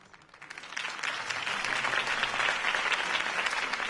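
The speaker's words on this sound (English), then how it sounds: "could have heard that applause" Crowd applause swells from a sparse start into steady, dense clapping after a mayoral campaign speech in the Telltale Batman video game, rising within the first second and holding loud to the end.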